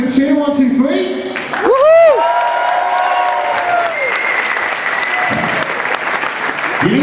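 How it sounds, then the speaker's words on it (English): Comedy club audience cheering and clapping on cue, a dense burst of applause under a loud voice that rises and falls like a shout, with the crowd noise carrying on steadily after. "on the count of 3, just give me a great big cheer"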